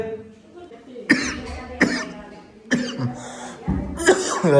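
A person who is ill with a cough and fever coughs close by, giving several harsh, separate bursts spread across the moment. Some speech is mixed in around the coughs.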